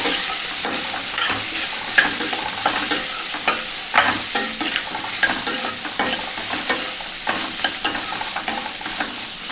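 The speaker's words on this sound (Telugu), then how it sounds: "ఉల్లిపాయలు వేస్తాం కదా, ఇప్పుడు ఒకసారి అయితే కలిపేసుకుందాము." Onions fry and sizzle in a pan while being stirred, a loud close crackle with repeated scraping strokes of the spoon throughout.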